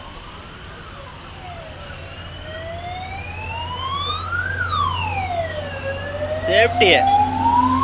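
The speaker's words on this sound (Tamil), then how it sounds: "வாவ், தீயணைப்புத்துறை." A fire engine's wailing siren rises and falls, growing louder as it approaches, with a short burst of horn near the end and faint talk underneath.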